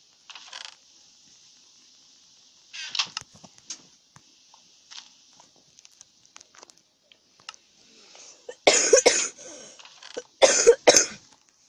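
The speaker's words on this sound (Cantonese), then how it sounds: "咳咳地。" Scattered coughs and throat clearing, faint at first, then two louder bursts of harsh coughing near the end, in an otherwise quiet space.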